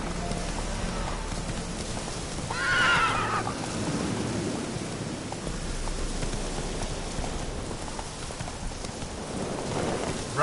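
Horse in The Witcher 3 video game gives a loud whinny over steady galloping hoofbeats, set against a continuous rain-like ambient wash.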